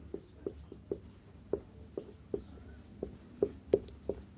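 A pen or marker scratches out a series of short, fairly even strokes on a board while a Class 10 maths lesson on radius works through its steps. The strokes sound close and distinct over a low, quiet room background.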